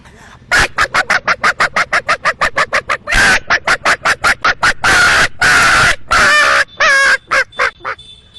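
A voice imitates a frightened hen squawking at the sight of a cat, delivering a loud run of rapid, clucking honks followed by longer drawn-out squawks and cackles, close and alone.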